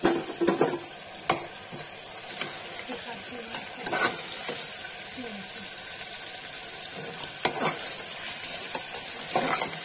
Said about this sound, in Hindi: ये देखिए काली पनीर फ्राई होगी